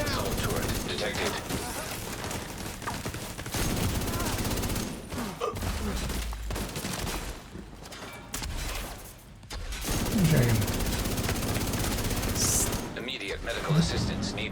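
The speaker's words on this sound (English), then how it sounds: "Hostile assault turret detected" Hostile assault turret gunfire in a video game firefight; dense, continuous bursts of rapid shots with brief lulls, mixed with game sounds and a voice talking over parts of it.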